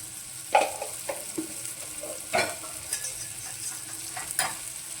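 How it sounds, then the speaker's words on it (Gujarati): A spinach and brinjal mixture sautés in a pan with a continuous soft sizzle, broken by several close, sharp scrapes and taps of a spatula stirring it, with no voices. "હવે આને થોડીક વાર સાતળવાનું છે આવી રીતે।"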